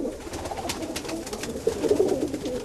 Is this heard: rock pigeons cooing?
yes